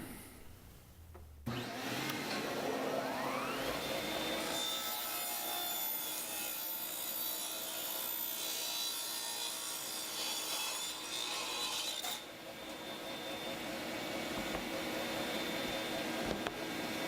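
A power saw spins up with a rising whine, then grinds steadily through stacked wooden parts for a long stretch, loud and close, with a brief shift midway.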